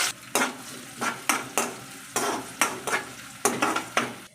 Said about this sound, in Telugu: నూనెలో జీలకర్ర వేస్తున్నాను కట్ చేసుకున్న ఉల్లిగడ్డ ముక్కలు